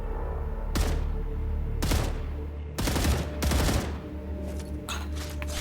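Gunfire at a shooting range in the game StarRupture: several separate bursts of shots, each lasting under a second, over a constant low mechanical hum.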